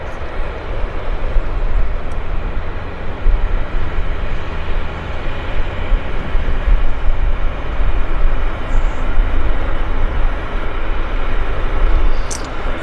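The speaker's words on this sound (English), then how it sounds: "And there's our WestJet turning onto the active." A WestJet airliner turns onto the active runway at Vancouver Airport with a loud, steady jet engine roar that holds unbroken from start to finish, with no voices.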